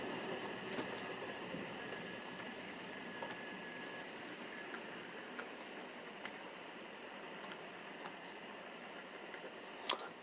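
A Heljan Class 33 model locomotive runs slowly under DCC control, giving off a faint, steady whir with light ticking from the wheels and track and one sharp click near the end.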